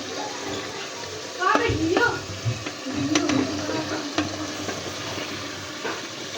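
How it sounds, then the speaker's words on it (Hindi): Potatoes and guar beans hit hot fried masala in a pan, giving a burst of sizzling and stirring scrapes that settles into a softer steady fry, with someone talking over it. "अब मैं इसके अंदर आलू और गवार फली ऐड कर दूँगी"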